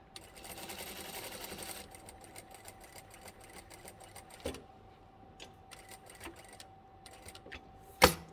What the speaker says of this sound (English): continue to sew to the end